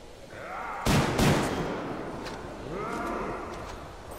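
Gunfire in Metro Exodus, a pair of close, loud blasts in quick succession that echo out, set against bleating-like creature cries and background voices.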